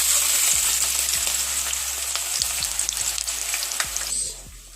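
Sliced onions frying in hot oil in a pot for Nigerian chicken and beef stew: a loud, continuous close-up sizzle with crackling pops, easing off at the end, no talking.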